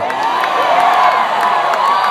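A club crowd screams and cheers continuously at a rock storytelling appearance, a dense wall of whoops and shouts that stays loud and steady throughout.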